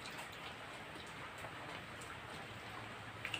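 Steady rain falling outside in the rainy season, a soft continuous patter of drops at moderate distance, even throughout with a couple of slightly sharper drips near the end and no talking.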